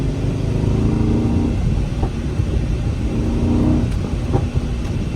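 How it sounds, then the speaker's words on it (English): Mercedes GLE63 AMG in Sport Plus mode during a drive, a loud engine drone rising and falling with gear changes, punctuated by a few sharp exhaust pops and crackles near the end. "Look at those pops from the exhaust."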